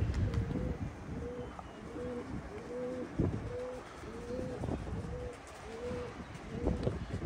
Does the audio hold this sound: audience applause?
no